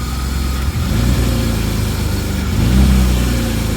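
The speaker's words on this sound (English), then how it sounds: "The 325 runs." A 1991 BMW 325i engine runs steadily close by, a continuous low mechanical drone with a slight rise in the second half, no voices over it.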